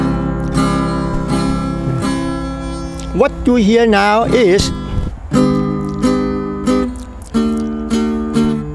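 An electric guitar is played melodically, with sliding, wavering bends that mimic the inflections of human speech. A voice talks briefly over the sustained notes.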